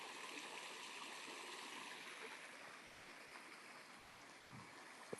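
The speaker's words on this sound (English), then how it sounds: "And there's the water flowing ever onward." A stream flows steadily with a soft, continuous wash of water that stays faint and even throughout, with no voices.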